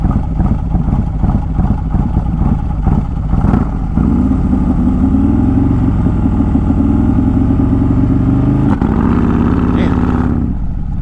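A built Harley CVO motorcycle engine on a drag strip, a loud close droning roar that rises in pitch and holds steady through most of the run, with speech over it.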